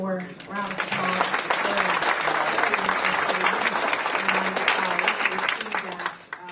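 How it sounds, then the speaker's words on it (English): An audience at a juvenile justice panel event gives the panel a full round of applause, loud and continuous, with a speaker's voice briefly audible at the start before the clapping fades at the end. "Let's give our panel one more round of applause"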